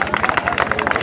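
Crowd clapping in a steady burst at an outdoor village kabaddi match, loud and close, with babble of spectators mixed into the applause.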